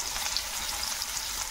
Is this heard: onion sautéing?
yes